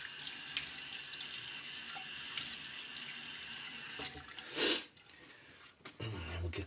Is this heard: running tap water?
yes